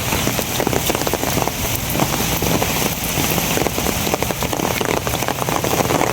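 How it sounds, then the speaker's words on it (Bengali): Rain patters heavily on a surface, a dense steady wash of drops close by, with no talking. "বৃষ্টিটা একটু কমছে"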